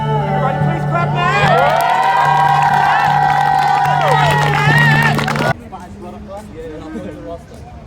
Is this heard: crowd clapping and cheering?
yes